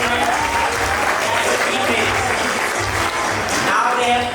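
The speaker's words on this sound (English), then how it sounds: "Participants, start clapping for the encouragement." Quiz competition participants clap together in a steady, dense burst of applause filling the room, loud and sustained throughout.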